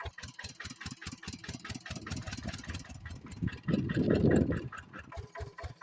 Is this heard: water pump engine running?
yes